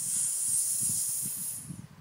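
A voice imitates a snake's hiss with a steady, close breathy hiss lasting about two seconds, a soft low hum beneath it that tapers off at the end.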